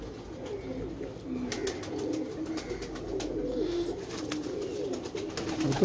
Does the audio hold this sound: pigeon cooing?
yes